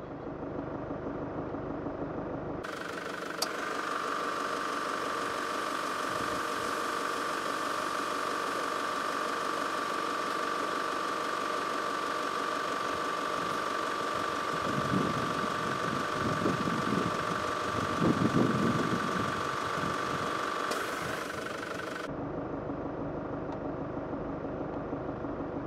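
Toyota Land Cruiser 150 3.0 D-4D suspension raising the body to its high position: a steady mechanical whir and hum running for about twenty seconds, with some rattly ratcheting texture near the end, then cutting off.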